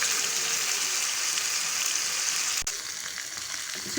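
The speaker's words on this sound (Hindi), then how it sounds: "चिकन को अच्छी तरह फ्राई कर लेंगे।" Chicken sizzles and fries in a karahi, a dense, steady crackling hiss running throughout at close range, with a brief dip in intensity partway through.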